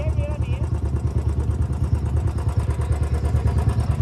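A motorcycle engine labours and revs while stuck on a muddy, rain-soaked off-road slope, a steady close chugging rumble with clatter, and voices talking over it.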